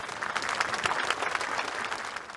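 An audience at a Turkmen song contest in Mary province applauds loudly and steadily, a dense, continuous wash of clapping that holds for the whole stretch with no voices over it.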